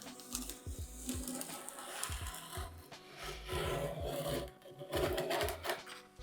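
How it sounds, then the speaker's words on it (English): Someone hand-sands a vintage wooden cocktail cabinet with repeated scratchy back-and-forth strokes in an uneven rhythm, close and moderately loud, with no talking. "So I can scuff sand all of that"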